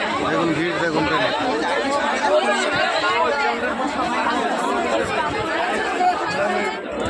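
A steady wall of overlapping passenger voices fills a crowded Howrah–Indore Shipra Express heading to the Kumbh Mela in Prayagraj, loud and close throughout with no pauses.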